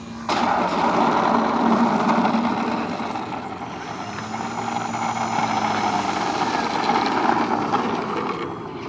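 An E-Flite Beast 60e Pitts Model 12 electric RC plane comes in to land, its loud steady motor and propeller whine droning on, with a changing tone midway.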